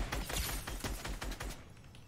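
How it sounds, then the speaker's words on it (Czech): Rapid bursts of gunfire from the Fortnite video game crackle through most of the two seconds, dense and loud with overlapping shots, tapering slightly toward the end. "už oba střílí po mně"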